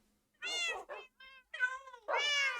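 Several house cats meow in a quick series of separate calls, close and fairly loud, the last one longer and more drawn out, alone in a quiet room.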